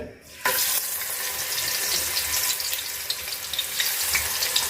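Hilsa fish pieces rubbed with turmeric and salt hit hot oil for a light fry, bursting into a loud, close, steady sizzle after a brief quiet start.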